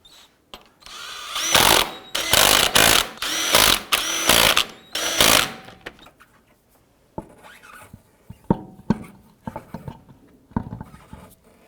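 Power tool snugging down wheel lug nuts on a 2004-2009 Dodge Durango, several loud close bursts of whirring in the first half, then quieter clicks and handling noises.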